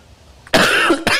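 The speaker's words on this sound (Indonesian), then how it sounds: "Saya sudah minta izin di awal ya untuk diselingi dengan batuk" A man coughs twice in quick succession, close and loud, the first harsh and drawn out, the second short, after a quiet pause.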